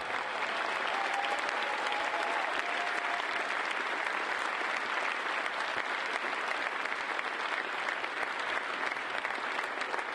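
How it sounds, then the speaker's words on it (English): A hacker conference crowd applauds a prize winner at the DEF CON 19 closing ceremony, a dense, even wash of many hands clapping at a distance, sustained without a break for about ten seconds. "Big round of applause."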